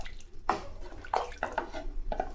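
Water poured into a cooking pot for rice, two tumblers to every tumbler of household rice for a vegetable rice dish: a few splashy gushes and drips at close range, uneven and spaced out, with no talk.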